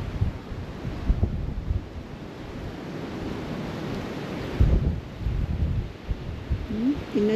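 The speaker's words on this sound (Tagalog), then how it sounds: "Yung hangin, grabe. Ililipad ka talaga." Strong wind gusts buffet the microphone outdoors along a cherry blossom walk, producing a steady low rumble with louder surges, and a few faint bird-like chirps near the end.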